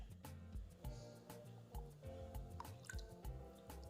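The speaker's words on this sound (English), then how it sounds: "So I'm going to decant this in my bottle." Homemade Irish cream, a copycat Bailey's recipe, is decanted into a bottle, giving soft intermittent drips and pours with small splashes, fairly quiet and close, with no talking.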